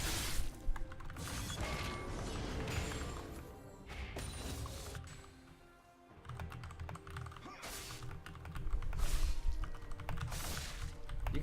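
Typing on a computer keyboard, with rapid clattering keystrokes in uneven bursts and a brief pause midway, close and fairly loud.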